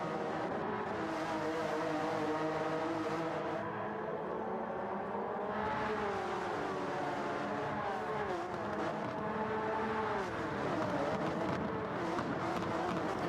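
Race cars in a Honda racing video game, engines whining and revving through rising and falling gear changes, loud and continuous, with several cars close together.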